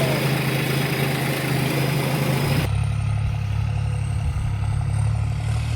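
A heavy tractor engine rumbles steadily at close range in farm fields, idling with a low throbbing beat and some clatter, its tone shifting partway through.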